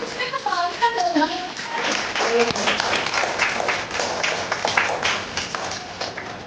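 Children and adults clap together at a toddler playgroup activity, a busy mix of hand claps running throughout with children's voices and adult talk over it, fairly loud and close.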